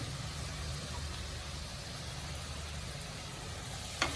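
Onions fry in a pan for a Kerala-style fish curry, a soft continuous sizzle over a low steady rumble of background noise, with one brief clink of a utensil near the end.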